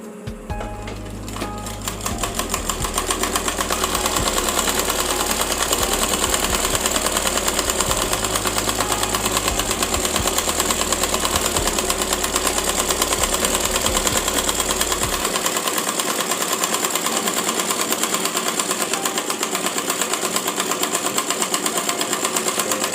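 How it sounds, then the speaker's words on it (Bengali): Sewing machine double-stitching fabric for a child's umbrella frock, a fast, even mechanical whir of needle strokes running loud and steady nearly the whole time, with no one speaking. "আমি এখানে ডাবল সেলাই করে নিচ্ছি।"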